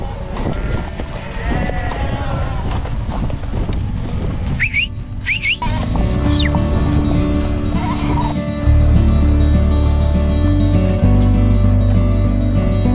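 A herd of sheep comes up a backcountry trail in Utah, with pack horses nearby. Loud, repeated bleats overlap one another, and hoof clip-clops and shuffling run underneath.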